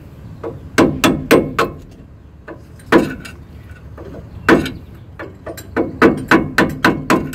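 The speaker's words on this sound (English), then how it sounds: "use the flathead to gently, you don't want to warp it or anything, tap it in." A flathead screwdriver taps a rear brake pad part into place on a Ford F-150, producing sharp metallic knocks in quick clusters of three or four, loud and close with short pauses between bursts.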